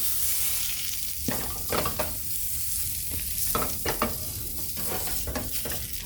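A Beyond Burger plant-based patty frying in a pan, giving a steady close sizzle broken by several sharper spatters and crackles, with no talking.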